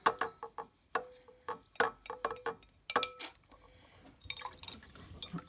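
Water rinses dyed Barbie doll hair, heard as a close, quiet run of irregular drips and splashes with faint clinking, sparse at first and then a denser trickle.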